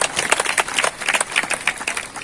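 An audience at a Ramayan (Manas) gathering claps loudly for a speech, with dense, uneven bursts of hand claps rising and falling for a couple of seconds and no talk over them.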